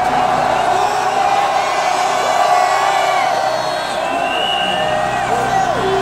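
A large protest crowd at a candlelight rally outside the prime minister's residence shouts together in a sustained, loud roar of many voices, with higher individual yells rising over the mass.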